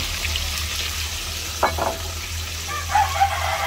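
Pork steak frying in a pan gives a steady sizzle with a low hum underneath and a few short scraping or stirring noises, close and even, without anyone talking.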